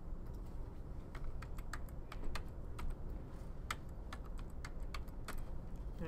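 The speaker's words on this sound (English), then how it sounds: "So I highlight everything and hit F8 on the keyboard." Quiet, steady typing on a computer keyboard, a continuous patter of light key clicks with occasional firmer taps over a soft background hiss, heard close without talk.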